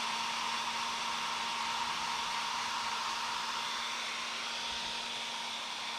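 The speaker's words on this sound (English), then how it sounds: "this hairdryer is like super old" An old hair dryer runs steadily and loudly throughout, a constant close whooshing blow with a faint motor hum and no pauses.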